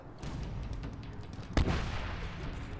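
An explosion goes off in a Medal of Honor battle, a single sharp, heavy boom about halfway through, over a continuous rumble of distant combat and scattered gunfire.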